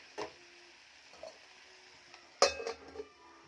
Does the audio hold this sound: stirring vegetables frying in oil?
yes